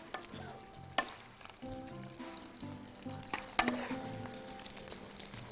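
Cooked fava beans being mashed in a pan for ful with eggs, giving a series of soft thuds and scrapes over a light sizzle, with tonal background sounds running underneath.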